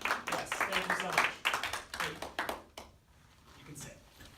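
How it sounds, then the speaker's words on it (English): Live audience at a singing workshop clapping for a volunteer, a brisk burst of many hands close by that fades out after a few seconds, with voices mixed in. "Big round of applause for the bravery"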